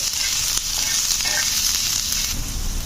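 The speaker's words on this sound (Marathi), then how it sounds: "गोल्डन कलर ब्राऊन कलर येईपर्यंत हा कांदा सुद्धा आपल्याला भाजून घ्यायचा आहे" Sliced onions roasting in a pan until golden brown for an egg curry, giving a steady close sizzle and frying hiss throughout, with no talking.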